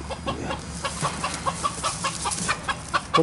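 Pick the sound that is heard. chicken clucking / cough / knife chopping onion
chicken clucking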